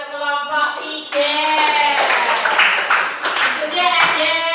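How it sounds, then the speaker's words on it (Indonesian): A classroom group claps in applause for another group of students. The clapping is loud, close and dense, and it runs under children's voices and a sustained tonal sound throughout. "Berikan tepuk tangan untuk kelompok 3."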